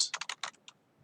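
Quick burst of typing on a computer keyboard while entering code in JavaScript App Lab, several crisp close keystrokes in rapid succession with no talk.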